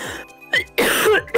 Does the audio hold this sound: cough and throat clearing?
yes